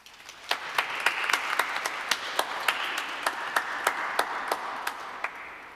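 At a Diwali celebration held in a chapel, an audience claps: distinct, evenly spaced sharp claps ring out over a soft, steady wash of applause.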